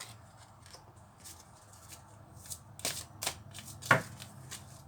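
Tarot cards handled and shuffled before six are drawn, soft papery riffles and flicks building to a few sharper snaps, close and quiet with no talk.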